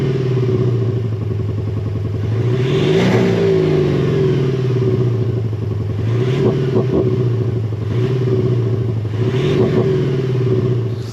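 A Ford Transit Custom MSRT van's engine revs repeatedly through a proper twin exhaust system, loud and close, with a steady idle rumble between several sharp rising blips.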